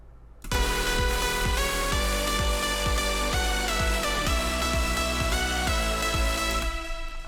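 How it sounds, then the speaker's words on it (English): A dance music track with a steady four-on-the-floor kick drum under sustained synth chords, played without sidechain compression so the pads stay constant and full, loud and continuous. "This is the track without the sidechaining on."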